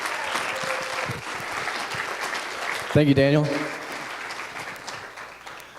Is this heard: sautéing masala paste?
no